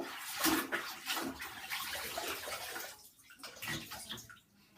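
A trumpet is dunked and rinsed in a tub of water, giving soft sloshing, splashing and gurgling that comes and goes in short bursts, close by and fairly quiet.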